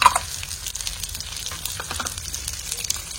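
Long green chillies and a Byadgi chilli frying in a pan, a close crackling sizzle with sharp spitting pops and stirring scrapes throughout.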